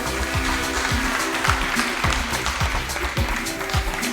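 An audience applauds the panelists and hosts at the end of a derivatives panel at the East Taipei Conference, a steady, dense clapping that holds at an even level for several seconds with no voice over it.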